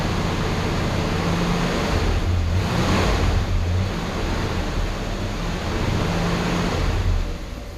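A 1966 Ford Galaxie 500 convertible V8 idles steadily with a smooth, even low rumble, close by, amid broadband wind-like noise throughout, with no talk.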